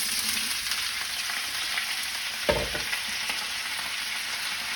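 Potatoes, onions and garlic crackle in hot oil in a full pan, a continuous close sizzle broken once by a soft knock of stirring.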